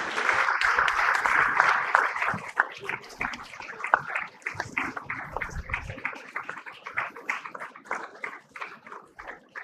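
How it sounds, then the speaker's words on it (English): Applause rises at a medical conference's inaugural session in Delhi for an honoree, strong at first and then thinning into scattered claps with some murmuring. "Big round of applause, please"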